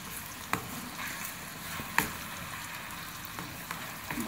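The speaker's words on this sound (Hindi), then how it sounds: "इसमें लहसुन अदरक और हरी मिर्चें जो हमने चॉपर में चॉप कर ली वो शामिल करेंगे। फ्राई करेंगे हम" Garlic, ginger and chopped green chilies fry in butter with a steady close sizzle, broken by a few sharp crackles and spatters, with no talking.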